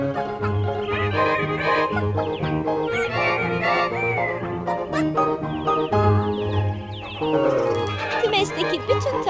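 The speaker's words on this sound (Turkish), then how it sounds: "Ve tavuklar gıdaklıyor. Bakın nasıl da gıdaklıyorlar." Hens cluck and squawk in bursts throughout, mixed with other barnyard chatter and a bright jingling backdrop, fairly close and busy.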